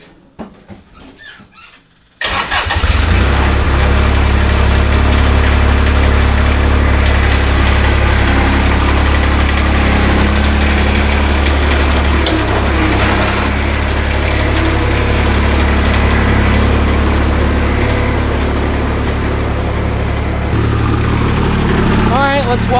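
A Bobcat engine with an oil leak starts after a short stretch of quiet shop noise, then settles into a loud, steady idle drone that runs to the end.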